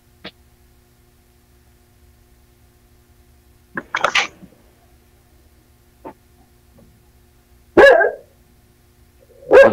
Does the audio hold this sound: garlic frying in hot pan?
no